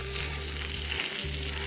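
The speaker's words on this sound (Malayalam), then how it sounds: "നമ്മളിപ്പോൾ ഈ തവയ്ക്കകത്ത് വെച്ചിട്ടാണ് ഇത് ഫ്രൈ ചെയ്യുന്നത്." Banana fish (spade fish) coated in masala fries on a hot oiled tawa, producing a continuous, moderately quiet sizzle that stays even throughout with no voices.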